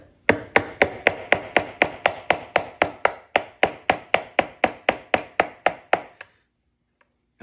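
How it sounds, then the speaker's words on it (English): Repeated sharp taps of a screwdriver struck against a spark plug tube seal in an aluminum valve cover, about twenty evenly spaced metallic knocks over six seconds, close and crisp, then silence. "I'm going straight down with the screwdriver, then coming inwards towards the circle as I get some taps in."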